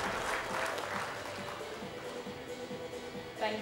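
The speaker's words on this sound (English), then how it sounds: "can I please have some huge round of applause for our dignitaries?" A conference audience in Ahmedabad applauds dignitaries, a dense steady patter of many hands clapping at a moderate distance throughout.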